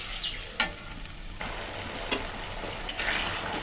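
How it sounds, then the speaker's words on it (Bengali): Spice masala with mustard paste sautéing in oil for a fish curry, giving a soft continuous sizzle with occasional spatula scrapes and taps against the pan, nearby and without speech. "মশলাটা ভালো করে একটু কষিয়ে নেব, তেলটা উপরে উঠে আসা পর্যন্ত।"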